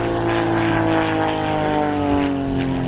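A Giles G-202 aerobatic plane performs a display at the Roskilde Airshow, its propeller engine droning loud and steady with a strong, even tone throughout.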